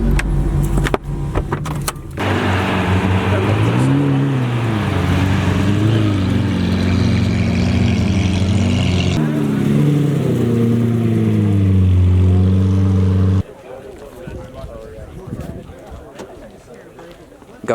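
McLaren 720S engine revving hard, a loud, close mechanical roar whose pitch climbs and falls through several sustained revs before cutting off abruptly, followed by quieter rough rumbling.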